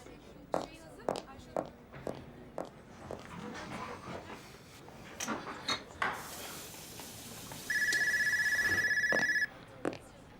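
A telephone rings indoors with a steady electronic trill lasting about two seconds, following clinking dishes and scattered household clatter, with voices talking around it.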